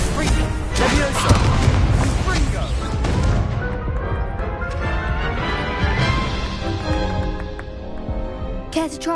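A Levioso levitation spell is cast in Hogwarts Legacy with a loud burst of crashing, booming magical impacts. The sound then thins into a softer, fading ambient tail, with faint voices in the mix.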